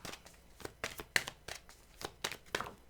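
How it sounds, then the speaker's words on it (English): Tarot cards being shuffled by hand in a series of quick papery riffles and flicks, about a dozen close, crisp bursts in an irregular rhythm with no talking. "I don't like it when the cards are facing me when I shuffle"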